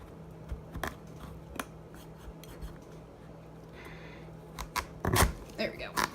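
Kitchen knife cutting a spaghetti squash in half, with scattered scraping and cracking crunches and a louder burst of crunching as the blade breaks through near the end, under a steady low background hum.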